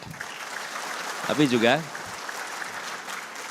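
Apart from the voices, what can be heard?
applause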